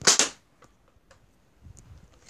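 Nerf dart gun firing indoors, a single sharp close burst of air and spring, then faint thuds and small rustles as the foam dart lands.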